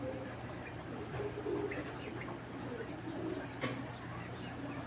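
Racing pigeons coo softly in a loft, their low murmuring calls running faintly and continuously under a steady background hum.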